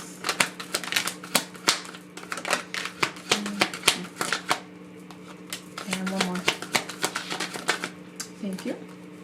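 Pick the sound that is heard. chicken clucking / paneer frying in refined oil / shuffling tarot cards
shuffling tarot cards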